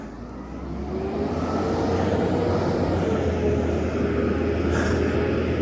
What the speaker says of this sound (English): got a big truck coming, guys.